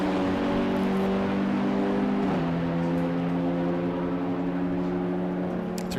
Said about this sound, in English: Through the penultimate corner there goes the Pascal Bachmann driven Renault Clio